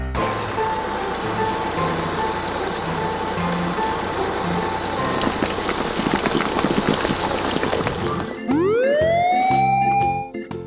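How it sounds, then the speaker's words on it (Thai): A toy police car's siren winds up near the end in a rising wail that holds loud and close, following a stretch of dense, hissing clatter. "รถตำรวจ Police Car"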